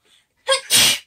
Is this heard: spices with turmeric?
no